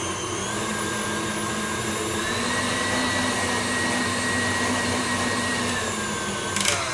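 Electric mixer whipping dairy-free frosting in a bowl, a steady close motor whine running continuously, with a brief clatter near the end and no talk.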